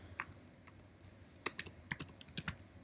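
Keys clatter on a computer keyboard as text is typed into an input field, quick uneven bursts of close clicks with short pauses between them.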